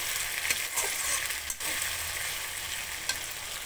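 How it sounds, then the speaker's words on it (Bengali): Green chillies fry in a pan while being stirred, giving a steady, close, loud sizzle with occasional scrapes of the spoon across the pan. "একটু নেড়ে নিচ্ছি।"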